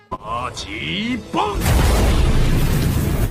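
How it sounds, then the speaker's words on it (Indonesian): An animated explosion destroys a hill, a loud sustained roaring blast bursting in after stylized whooshing effects and continuing to the end. "Dikolaborasikan dengan ledakan Oktanu. Jurus tersebut mampu menghancurkan bukit."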